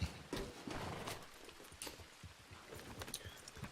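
Video game horse hooves clip-clop steadily with an occasional snort or whinny, close by, over a busy ambient background in a roleplay server.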